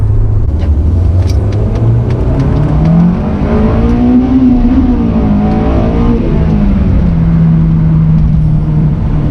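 A 2005 Honda S2000 AP2 engine drones loudly from inside the cabin, revs rising and falling through gear changes, with a steady rumbling underneath.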